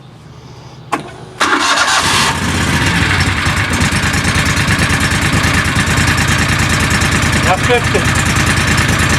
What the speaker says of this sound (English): Now I'll go ahead and fire it up and see what it sounds like.